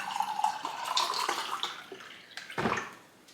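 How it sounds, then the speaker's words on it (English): Water pours into a drinking glass, a gentle trickle with faint splashing that rises and wavers before a short gurgle near the end. "start by a nice glass of water."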